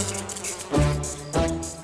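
A mosquito buzzes close to the ear in a steady whine that swells twice as it passes, with no talking over it.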